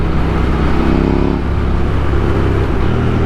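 A KTM Duke 890R motorcycle engine revs loudly and close during wheelie practice, a dense, continuous roar whose pitch shifts slightly through the short burst.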